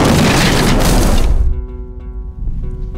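A naval gun fires from the sea, a loud close boom with a heavy rumbling tail that cuts off abruptly into a quiet ringing tone.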